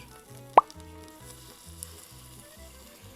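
Thai curry paste fries in a splash of thick coconut cream, giving a soft steady sizzle with one sharp plop near the start as the cream goes in; no one talks.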